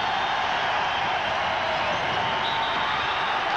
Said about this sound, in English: Here comes the crowd, folks.